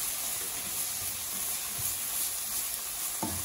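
Masala spices frying in a pan for Burmese khao suey noodles, a steady close sizzle with soft stirring scrapes, louder spoon strokes near the end, no talking.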